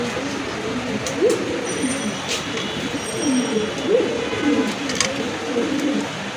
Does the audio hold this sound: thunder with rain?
no